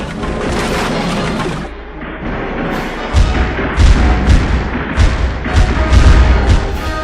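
Repeated heavy booms and thuds of Paraguayan cannon fire and shore musketry during a naval battle, several deep blasts in quick succession over a dense, continuous rumble of battle noise.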